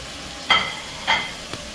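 Grated onion and green chili fry with salt and turmeric for smoky yogurt mutton: a low background sizzle with three short, bright stirring scrapes spaced about half a second apart, close by and without speech.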